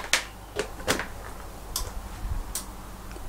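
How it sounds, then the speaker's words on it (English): Relay in a donated electronic device, probably a disc recorder, giving a few sharp, scattered clicks at close range over quiet background hiss, with no talking. "I heard something that sounded like a relay clicking"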